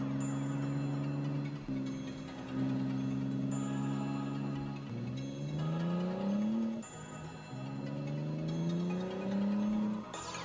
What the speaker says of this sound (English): I like how we're hearing some of the car audio.